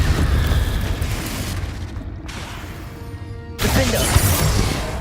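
Explosions from the Confringo fire spell in the video game Hogwarts Legacy, a loud roaring blast followed by a quieter lull and then another burst, close with no voices.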